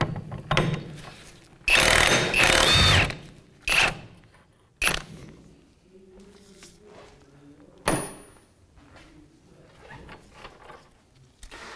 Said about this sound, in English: So now we're going to go ahead and remove the castle nut. We're going to use a 32mm socket.